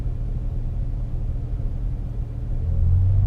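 A Ferrari F12 TDF pulls away slowly from a standstill, its deep engine rumbling steadily and close, swelling slightly louder toward the end as it creeps forward.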